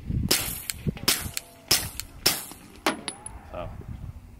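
Five suppressed 9mm pistol shots, 147 grain rounds fired through a .45 suppressor, sharp muffled cracks spaced about half a second apart, each with a short tail and faint clinking between.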